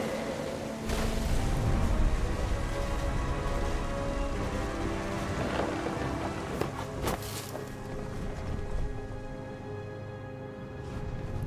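A heavy storm in the video game What Remains of Edith Finch, with steady dense rain pouring throughout and a few sharper cracks and rumbles breaking through the downpour.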